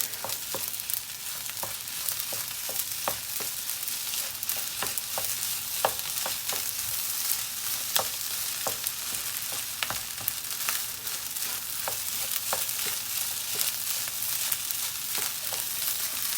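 Fried rice with scrambled eggs being stirred in a hot pan, a steady bright sizzle throughout with repeated scraping clicks of the utensil, close and continuous with no talking.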